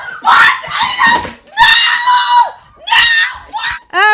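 A woman lets out several loud, shrill screams in bursts on a news broadcast, frantic and close, with brief gaps and breathy cries between them.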